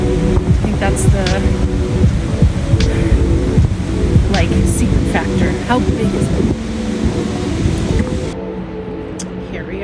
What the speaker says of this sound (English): A big waterfall.